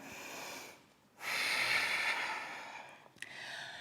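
Heavy breathing during a vinyasa yoga flow, a long audible exhale, a short pause, then a strong sustained breath with a brief snort-like catch near the end.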